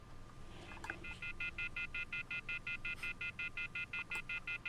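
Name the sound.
telephone being dialed, dial tones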